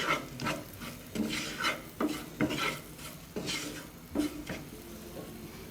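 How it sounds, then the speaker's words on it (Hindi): Spices fry quietly in ghee in a pan with repeated scraping strokes of a spoon stirring against metal, a steady rhythm of scrapes over the hiss. "इन सब को घी में थोड़ी देर फ्राई करें।"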